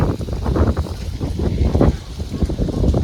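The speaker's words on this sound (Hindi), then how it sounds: "हवा चल रही है, बादल लग गए हैं" Gusty wind blows across an open village setting under gathering clouds, rumbling and buffeting the microphone in uneven bursts for the whole stretch.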